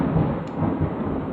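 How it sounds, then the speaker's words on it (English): Distant thunder rumbles low and continuous beneath a steady wash of rain, soft and far off, with no one speaking. "There's some thunder you probably heard."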